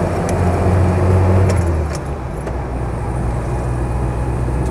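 Cabin drone of a Land Rover 88in Series III on a straight track, a steady low engine hum and road rumble that dips briefly around a gear change before settling back, with light rattles overhead; no talk.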